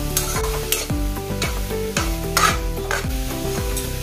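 Green chickpea mixture sizzling and frying in a pan, with steady close crackle and repeated stirring scrapes at a regular rhythm, no voices.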